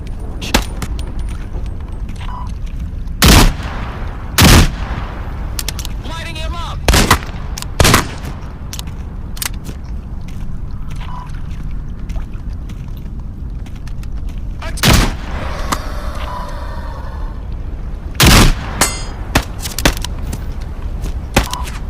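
Shotgun fire in the video game Into the Radius 2, about a dozen loud sharp blasts spread irregularly, some in quick pairs, between quieter movement and handling noises.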